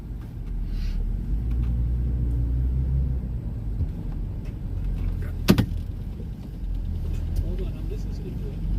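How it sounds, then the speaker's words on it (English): Cars driving past on a road near spreading wildfires in Spokane, Washington, a continuous low engine rumble with passing swells, one sharp knock midway, and a voice talking over it. "I'm listening to all these cars."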